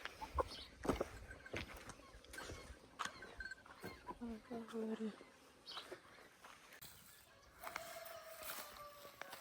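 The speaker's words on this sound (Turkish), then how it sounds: "Horoz tavuk karışık." Roosters and hens kept together in a village flock cluck and squawk in scattered bursts at moderate distance, with people talking softly in between.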